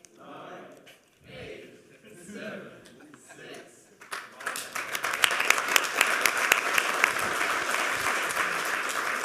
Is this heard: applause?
yes